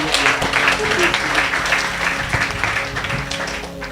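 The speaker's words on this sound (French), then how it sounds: "Est-ce qu'on peut acclamer pour Jésus?" Church congregation applauding and cheering for Jesus during a French-language service, a steady broadband roar of clapping held at even loudness throughout, with voices mixed in.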